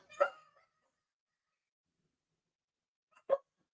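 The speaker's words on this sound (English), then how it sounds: "sorry about the dogs" Dogs give two short, single barks from indoors, about three seconds apart, with silence between them.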